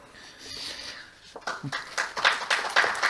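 Applause at a round-table panel on public procurement law starts after a quiet pause, as scattered claps quickly build into fuller, louder clapping from the audience.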